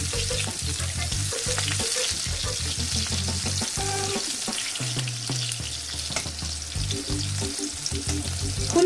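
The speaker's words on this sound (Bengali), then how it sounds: "বেগুনটাও আমি একটু ভেজে নেব" Brinjal (eggplant) frying in a pan, a loud continuous crackling sizzle with occasional stirring scrapes, close up and without talk.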